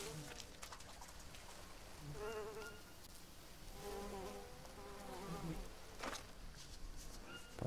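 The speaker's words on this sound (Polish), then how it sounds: "tutaj jak są muchy" Flies buzz steadily in a jungle survival game, their wavering drones rising and falling close by over a soft rain-like background hiss, with no talking.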